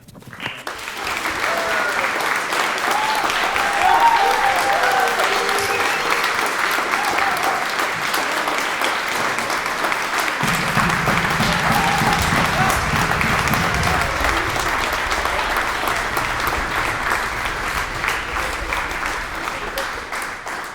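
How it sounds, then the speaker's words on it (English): Big, sustained applause from a concert audience at a prize concert, honouring the two accompanists; many hands clap steadily and loudly for about twenty seconds, with a few voices underneath and a low hum joining midway. "we would all like to applause, like a really big applause to our two accompanists, Tuyan and Ayung."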